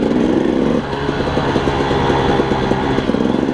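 A dirt bike on a single-track trail in Rampart Range, Colorado, runs at a steady, loud close-up engine drone with a throbbing pulse, held at moderate throttle rather than revving hard.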